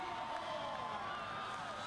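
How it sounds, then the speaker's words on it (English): Basketball fans cheer in a home arena, a steady roar of crowd noise with whoops that holds at an even level throughout. "Smoke, fireworks, music blasting, and fans cheering."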